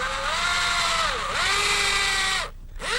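A power drill bores holes into a wooden high chair rail, its whining motor close and loud, dipping in pitch under load and briefly cutting out before spinning up again.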